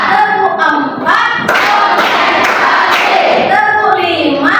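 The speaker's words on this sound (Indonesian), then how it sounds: "Tepuk empat." Children in a classroom clap along in a counting clap game, a dense burst of claps and group chanting filling the middle of the clip between stretches of a teacher's voice.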